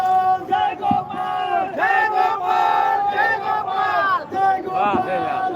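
A crowd at a political rally in Surendranagar cheers and shouts together, a loud, dense mass of voices that swells and dips continuously throughout.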